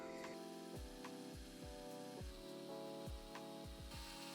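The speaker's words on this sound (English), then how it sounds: "I'm just going to carefully drill them, starting with the smallest bit first, going all the way in to the hole" A drill bores holes into a wooden chisel handle, moving from the smallest bit upward. A steady motor whine sags in repeated quick dips as the bit bites into the wood, with no talk.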